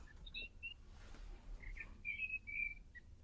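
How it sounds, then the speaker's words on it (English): Birds chirping outside a house, several short high tweets and whistled notes in scattered bursts, fairly faint over a low background hum. "Are those birds at your house?"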